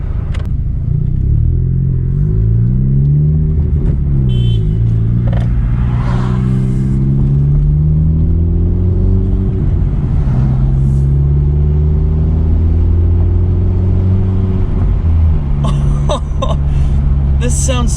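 A 2020 Honda Civic Si fitted with a MAPerformance street exhaust idles loud and close with a deep droning rumble, and its engine revs up and settles back several times, with a few brief clicks and knocks near the end.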